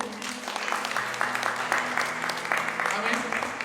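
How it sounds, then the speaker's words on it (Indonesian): Congregation applause during a Sunday church service, a sustained wash of clapping with voices mixed in and a low hum underneath. "Tepuk tangan dong untuk Tuhan."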